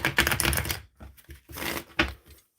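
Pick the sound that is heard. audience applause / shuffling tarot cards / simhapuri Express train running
shuffling tarot cards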